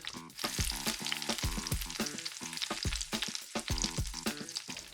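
Beef short ribs deep-fry in oil at around 150 degrees, giving a loud, continuous crackling sizzle with dense bursts of popping spread evenly throughout and no talking.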